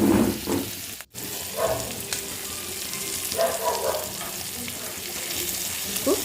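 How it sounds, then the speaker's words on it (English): Spicy prawns frying in a pan over a low flame, with a steady close sizzle, one brief dropout, and a few soft scrapes and pops. "Cook 5 minutes one side and 5 minutes another side in the low flame."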